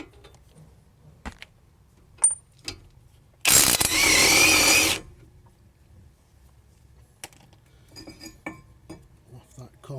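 A ratchet spins in one loud burst of about a second while it loosens the bolts of a brake caliper carrier on a Volvo front disc brake, followed by scattered metallic clinks of tools in a quiet workshop.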